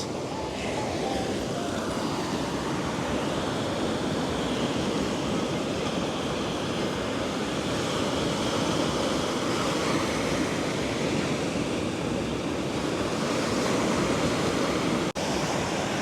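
Ocean waves break on a surfing beach at sunset, a steady broadband roar of surf lasting throughout with wind hiss in the microphone and no clear voices.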